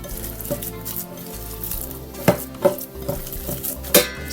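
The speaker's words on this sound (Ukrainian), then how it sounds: "І вимішую фарш. Вимішую рукою, щоб гарно розподілилася цибуля між фаршем." Minced meat being kneaded by hand with chopped onion and salt, giving soft wet squelching and slapping with a few sharper pats and clicks, close and steady, with no talking.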